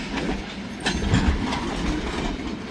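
Mile-long freight train pulled by three locomotives up a grade, loud rumbling rolling noise of rail cars with rhythmic clattering of wheels over joints and a few sharp metallic knocks, close by.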